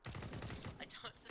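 Rapid automatic gunfire from the game CS:GO, a fast stream of evenly spaced shots filling the short moment, close and steady in level.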